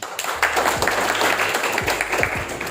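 Campus audience at an election-awareness event clapping for a student, a dense, loud wash of applause lasting a few seconds with low voices mixed underneath.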